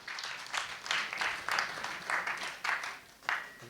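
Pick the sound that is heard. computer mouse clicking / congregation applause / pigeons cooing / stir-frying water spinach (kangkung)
congregation applause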